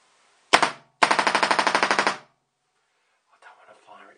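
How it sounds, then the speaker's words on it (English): A paintball marker fires reballs: one sharp shot, then a rapid burst of about a dozen evenly spaced pops, loud and close, followed by quiet and faint handling noise. "I'm shooting reballs. There's no first shot drop."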